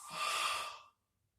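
A single long breath pushed out during a Pilates exercise, a close, soft airy exhale that swells and then fades to silence.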